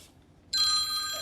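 A mobile phone rings out during a shire council meeting: a bright electronic ringtone starts abruptly after a quiet moment and carries on steadily, fairly close and alone in the room.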